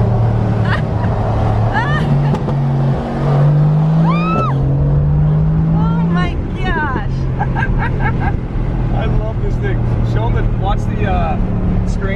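A Mercedes-AMG GT R engine revs and drops through gears in short stepped downshift bursts, with people talking and laughing over the steady motor drone.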